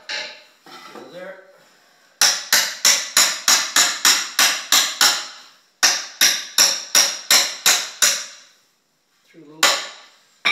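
A hammer taps bolts through cedar parts during chair assembly, sounding as a fast series of sharp, evenly spaced knocks in two bursts, with brief talk before and after.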